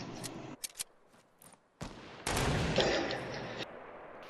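Gunfire in the Fortnite battle royale video game, several sharp isolated shots followed by a dense burst of rapid fire lasting over a second, close and loud, with brief silent gaps between.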